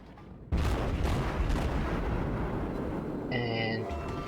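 Naval gunfire and shell hits in World of Warships, with a Cleveland tier 6 cruiser firing: a sudden loud boom, then rumbling impacts and a brief tonal alert, with a voice talking over it.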